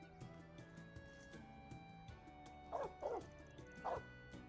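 A dog in the video game Trails Beyond the Horizon gives three short, quiet barking yelps in quick succession over soft game music and ambient sound.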